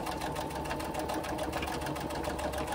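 A sewing machine runs continuously, stitching a wrist strap in a fast, even rattling hum with no pauses.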